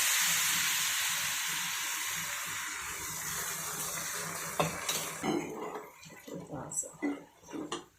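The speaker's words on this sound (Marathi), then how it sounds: "आपण जे उकळलेले आहे ना हे पाणी त्याच्यामध्ये असं टाकायचं" Boiled water poured into dry sautéed ghevda beans in a pan, producing a loud hissing rush that fades into sputtering and clattering stirring sounds over the last few seconds.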